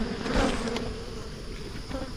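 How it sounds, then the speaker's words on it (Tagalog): Flies buzz steadily around a sow in a farm pen, a dense continuous insect drone that stays close and fairly loud throughout with no voices. "may mga langaw."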